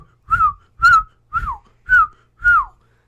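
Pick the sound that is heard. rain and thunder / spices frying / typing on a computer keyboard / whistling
whistling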